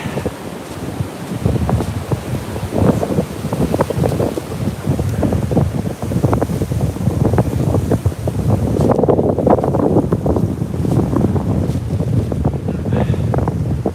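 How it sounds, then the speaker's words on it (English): Strong gusts of wind buffet the microphone in a forest in the Scottish Borders, with loud rumbling and roaring, continuous and shifting in intensity, with no voices. "Windy."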